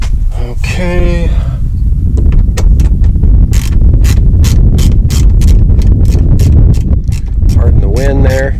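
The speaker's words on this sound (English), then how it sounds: "Pardon the wind there." Wind buffets a microphone outdoors during a 2006 Jeep Wrangler TJ dash repair, a loud continuous low rumble, with rapid ratchet clicks in bursts and someone speaking briefly at the start and end.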